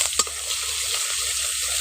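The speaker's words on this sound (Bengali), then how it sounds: "পেঁয়াজটাকে একটু ভেজে নিচ্ছি" Chopped onions fry in oil with cardamom pods and cinnamon sticks, giving a close, continuous sizzle with a stirring scrape near the start.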